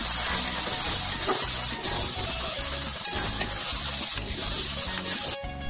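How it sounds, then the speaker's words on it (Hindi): Butter-rich pav bhaji being stirred in a hot pan, Mumbai street-food style, with a steady loud sizzle and rhythmic scraping of the spoon through the thick mash, close up, ending abruptly. "तो हम इसमें और बटर ऐड कर लेंगे और इसे अच्छे से मिक्स कर लेंगे।"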